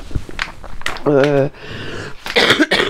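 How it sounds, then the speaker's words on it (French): A few throaty coughs and throat clearing up close, mixed with a short voiced sound and breathy noises. "Excusez-moi, j'ai la toux."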